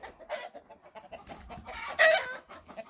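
Hens and roosters on a farm cluck in short bursts close by, with one louder squawk near the end.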